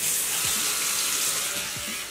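A bathroom water tap running steadily into a sink while someone rinses their mouth after brushing, a close, loud hiss of flowing water with a few faint gurgles.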